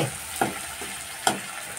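Fish frying in oil in a home kitchen gives a steady, quiet sizzle. A spatula scrapes through the pan twice, and each stir makes a short, distinct scrape over the hiss.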